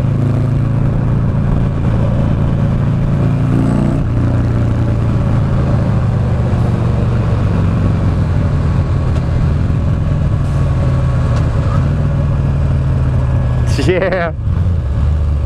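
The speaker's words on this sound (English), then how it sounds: "That bike sounds marvelous." A 2009 Buell Lightning Long XB12SS motorcycle runs during a ride, its engine a loud, steady low rumble alongside constant wind noise, briefly dipping near the end while a voice speaks once.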